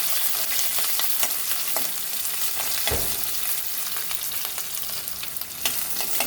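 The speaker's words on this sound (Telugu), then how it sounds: "కొంచెం ఉల్లిపాయలు కూడా వేసి చిటపటలాడే వరకు వేయించుకోవాలి." Green chillies and onions fry in hot oil as tempering for Telangana taro root curry, a loud continuous crackling sizzle with stirring scrapes throughout.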